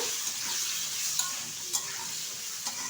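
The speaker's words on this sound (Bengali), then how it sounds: "ভালোভাবে একটু ভেজে নেব।" Potatoes frying in hot oil in a wok (kadai), being stirred, for an okra and potato curry: a steady close sizzle with a few soft scrapes and taps of the spoon, no talking.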